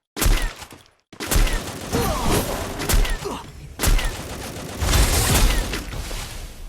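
Bursts of machine gun fire in a mobile shooter game, with rapid crackling volleys broken by a brief silence and heavy thumps, loud and close throughout.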